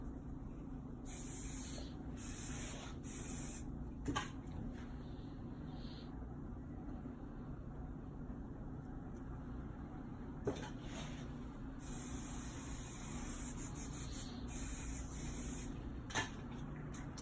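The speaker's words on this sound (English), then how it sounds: "building the layering of the hold with the Fluxus hairspray" Fluxus hairspray misted over a modern updo in several short hissing bursts, close and moderately loud, with pauses between sprays over a low steady room hum.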